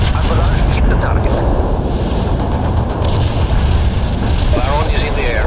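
An artillery barrage strikes a target in the video game World in Conflict, a dense, loud wall of rumbling blasts and booms that keeps going without a break.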